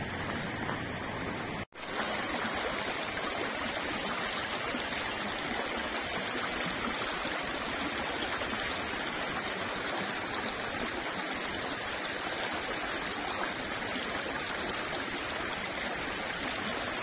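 The River Leven runs at high water, a steady, broad rushing roar that continues nearly unbroken apart from one brief dropout near the start.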